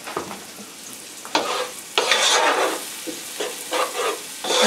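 Steak goes into a hot pan with garlic and butter and fries with a loud, close sizzle that flares in bursts as it is moved and stirred, with no voices.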